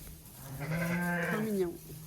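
A single lamb out in a field gives a close, wavering bleat lasting about a second, with faint ambient noise around it.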